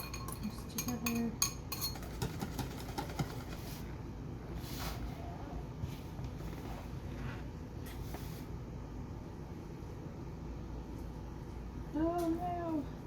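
Eggs, buttermilk and butter are whisked together in a bowl, giving repeated close clinks and scrapes of a utensil against the dish. The mixing is busiest at the start and turns quieter and sparser later, with a brief squeak near the end.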